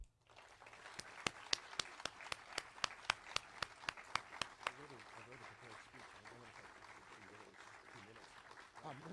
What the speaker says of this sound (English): let's have one last round of applause for Tom and Gail